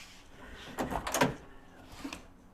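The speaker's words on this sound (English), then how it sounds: "Open the door" A door opens with a brief creak and rattle of its hardware, nearby and moderately loud, followed by a softer knock as it settles.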